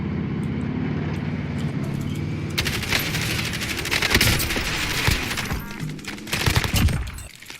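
Heavy automatic gunfire in Call of Duty Warzone, with dense rapid bursts crackling over a steady engine and vehicle rumble, loud and close for most of the clip.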